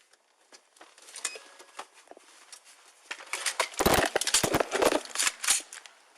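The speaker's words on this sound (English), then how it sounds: "Just heard a gunshot." Several sharp gunshot-like cracks in a quick irregular burst, fairly close and loud, after a quieter stretch of faint tapping, recorded on a police bodycam during an officer-involved shooting.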